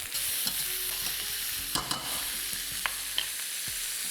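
Paneer and peppers stir-fry in a hot pan with a steady, close sizzle, punctuated by a few sharp clicks and scrapes of stirring; no one speaks.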